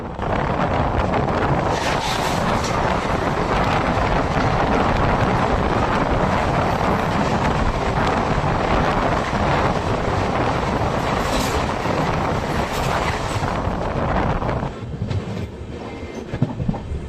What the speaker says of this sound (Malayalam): ബീഹാറിലെ ദാനാപൂരിൽ നിന്നും കോയമ്പത്തൂരിലോട്ട് പോകുന്ന ഒരു സ്പെഷ്യൽ ട്രെയിനാണ് ഇത് അപ്പുറത്തെ ട്രാക്കിലൂടെ ഇതാ പോയിക്കൊണ്ടിരിക്കുന്നത്